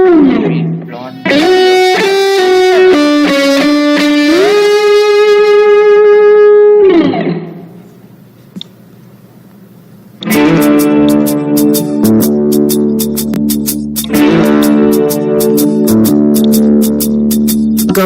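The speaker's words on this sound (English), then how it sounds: "So we'll again hear the sound. Here you can see the distortion." A distortion effect is applied to a synthetic tonal signal. Loud, buzzy stepped tones give way to a brief near-silent gap, then return as a denser, harsher distorted sound. No one speaks.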